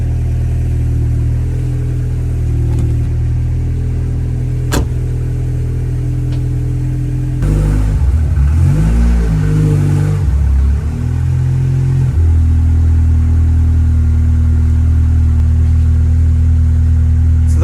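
A Ford Cosworth's engine idles steadily with a deep, constant drone, broken midway by a brief, rougher surge before settling back to its even running note.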